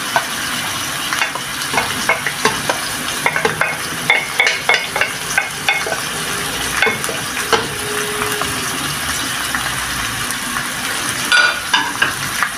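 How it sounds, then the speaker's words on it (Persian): About 400 grams of onions sizzle and crackle in hot oil over medium-high heat as a utensil spreads and stirs them in the pot, with scraping taps scattered throughout. "پیاز هامون رو داخل قابلمه تخت میدیم"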